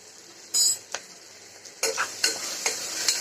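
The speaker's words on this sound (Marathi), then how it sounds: "थोडं परतून घ्यायचं." Chili powder and turmeric are sautéed in a pan for masala rice, with a spoon stirring and scraping in short, close bursts over a soft, steady sizzle.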